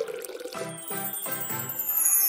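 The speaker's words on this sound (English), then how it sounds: "I'll just lift off her hair and pour in some water." Water poured into a hollow doll's head, a close trickle with tinkling, ringing resonance that rises in pitch as it fills.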